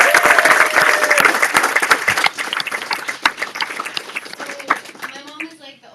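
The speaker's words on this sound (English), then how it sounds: "can everyone clap for my mom?" A crowd at a book launch event applauds the author's mother, loud, dense clapping that gradually thins and fades, with a voice rising over the last moments.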